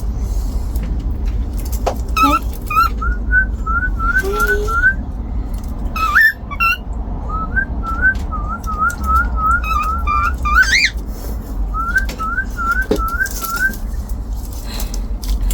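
Repeated bright, rising chirpy whistles of a cockatiel in quick runs, paused and resumed, over a steady low background hum.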